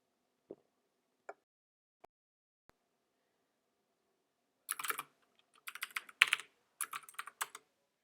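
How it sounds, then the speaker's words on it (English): Someone types on a computer keyboard: a few isolated keystrokes, then a quick irregular burst of clicking typing, close and clear. "having trouble typing quotes today"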